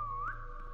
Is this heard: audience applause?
no